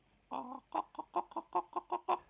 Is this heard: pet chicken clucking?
yes